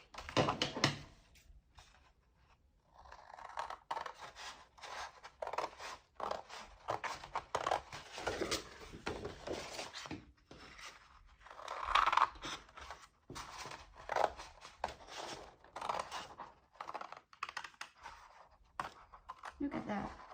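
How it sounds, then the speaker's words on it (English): Scissors cut a paper file folder in half with crisp snipping and crunching, close up, mixed with handling noises and talk between the cuts. "I'm just gonna cut it in half."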